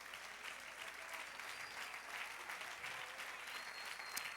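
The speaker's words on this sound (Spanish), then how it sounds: "Dale un aplauso al Señor." A church congregation applauds in dense, steady clapping that stays fairly faint, without a pause for the whole stretch.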